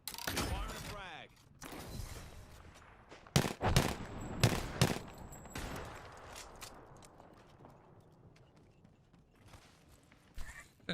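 A frag grenade launched in a video game, heard as a sharp burst followed by a run of loud gunfire-like cracks and bangs, then a fading rumbling tail, with chatter of voices underneath.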